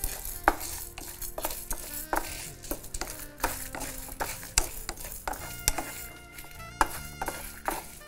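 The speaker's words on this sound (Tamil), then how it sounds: "இதில் துவரம்பருப்பு பச்சரிசி காஞ்ச மிளகாய் 3, இதை நல்லா செவக்க வறுத்துடணும்." Toor dal, raw rice and three dried chillies are dry roasted in a pan, with repeated sharp scrapes and knocks of a spatula against metal over a low, faint background hum.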